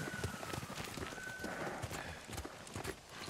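Horses gallop in the Ghost of Tsushima video game, a quick, continuous clatter of hooves at moderate loudness against a busy outdoor game ambience.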